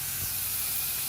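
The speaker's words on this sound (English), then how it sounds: "Labor Day sizzle. First up on the grill, some burgers." Burgers sizzle on an outdoor grill at a Labor Day cookout, a steady close hiss of fat and meat juices with no break.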